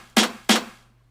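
A single snare layer sampled from an old drum kit, struck twice about a third of a second apart, each hit a bright, noisy crack with a short decaying tail, alone and close.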